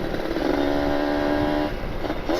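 A Kawasaki Ninja RR two-stroke motorcycle being ridden, its engine droning steadily and close by with a buzzing harmonic tone that holds even, then eases off near the end.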